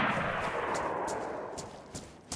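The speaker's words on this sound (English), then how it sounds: "Gunshots." Several sharp gunshots in the video game DayZ crack at irregular intervals over a steady, dense wash of background noise, each one brief and fairly close.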